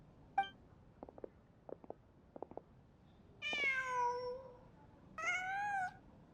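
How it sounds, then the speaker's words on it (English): A cat in the video game Genshin Impact gives two long, clear meows, the first after a few soft scattered ticks and the second about a second later, both alone and close. "Just a cat."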